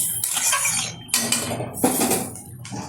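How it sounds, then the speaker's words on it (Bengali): Metal lid being set onto a cooking pot, a few clattering clinks and scrapes of metal on metal, close and fairly loud. "ঢেকে দিচ্ছি পনেরো মিনিটের জন্য"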